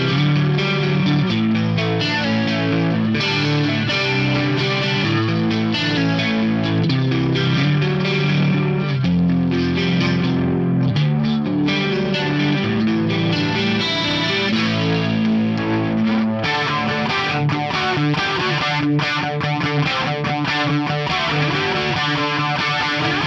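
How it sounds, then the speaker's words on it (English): Electric guitar played through stereo chorus into a pair of amps, with a distorted, shimmering, wide tone as chords and notes ring continuously and loudly throughout. "I've got stereo chorus before a stereo pair of amps"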